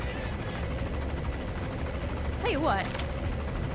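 A helicopter in Metal Gear Solid V drones steadily overhead under game ambience, with brief wavering tones near the end and someone speaking briefly.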